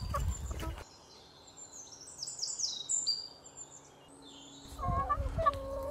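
Chickens being fed outdoors in Barouk, Chouf, Lebanon, with high clucks and squawking calls fluttering through the middle, bracketed by bursts of nearby voices talking.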